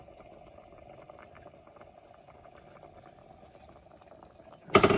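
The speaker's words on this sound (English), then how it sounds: "So you see how you got that bubbling right there?" Spicy oxtails bubble in a pot on the stove, a faint, steady simmering burble with soft pops, ending in a sudden louder clatter near the close.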